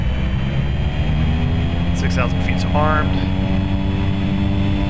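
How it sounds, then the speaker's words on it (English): The simulated PT6 turboprop of a Carenado 208 in X-Plane 11 drones steadily and loudly at run-up, a constant roar throughout, with a brief synthetic cockpit voice callout partway through. "go ahead and run up the engines."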